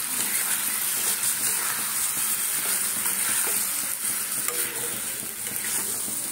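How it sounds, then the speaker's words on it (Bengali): Potatoes with salt and spices sautéing in a pan for a curry: a dense, unbroken sizzle with faint stirring scrapes throughout, close and fairly loud, no voices. "এইভাবে কষাবো"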